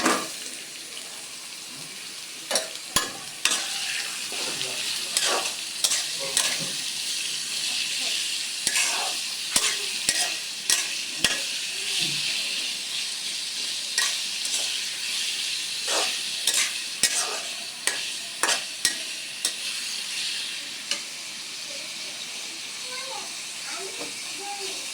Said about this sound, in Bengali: এবার এতে দেবো আমি পেঁয়াজ কুচি। পেঁয়াজ কুচিগুলো দিয়ে দিলাম